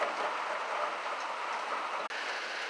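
Steady rain falling outdoors, a dense continuous hiss of drops on surfaces with no voices, briefly cutting out near the end.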